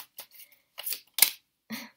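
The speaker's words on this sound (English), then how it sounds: "I'm just going to shuffle again." Tarot cards shuffled by hand in several short, separate bursts of crisp riffling and rustling, close and fairly quiet, with brief silences between the bursts and no talking.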